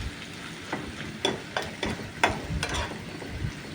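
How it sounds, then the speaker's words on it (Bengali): Onions gently frying in a pan until golden brown for a chicken curry, a soft steady sizzle broken by several sharp scraping stirs of a utensil, close and moderately quiet with no talking. "হালকা করে পেঁয়াজটাকে ভাজবো যতক্ষণ ওই গোল্ডেন ব্রাউন কালারটা যতক্ষণ না আসছে"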